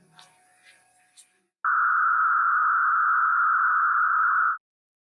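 A steady pure sine tone masked by a band of narrow-band hissing noise at the same frequency, not fully covering it, lasting about three seconds after a few faint chirps.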